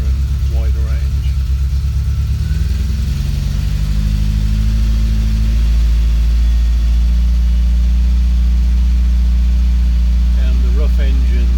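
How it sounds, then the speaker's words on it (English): A Triumph TR7 engine runs steadily, rising from idle to a higher, smoother drone near 2000 RPM and holding there, close and loud, with brief speech at the start and end. "So if I now rev the engine up to closer to 2000"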